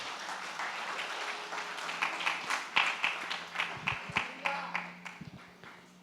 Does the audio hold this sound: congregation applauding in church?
yes